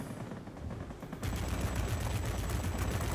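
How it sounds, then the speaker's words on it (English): Rockets firing from a ground-attack aircraft in the IL-2 combat flight game, a dense rumbling barrage that starts about a second in and roars on loudly and steadily without pause. "Fire a couple of rockets."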